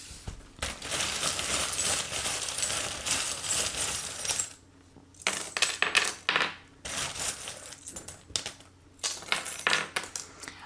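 Small divination charms dropped and scattered onto a table, producing bursts of clinking, rattling metallic taps in several close clusters separated by short pauses, with no talking.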